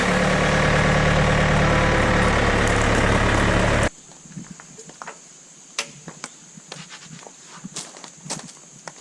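A John Deere 110 backhoe engine runs loud and steady before cutting off abruptly, leaving quiet outdoor ambience with scattered faint clicks and taps.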